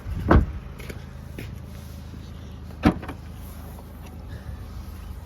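Car boot being opened, with a loud mechanical thunk at the start and a second sharp clunk a few seconds later, set against quiet background hum in a roomy car, no talk.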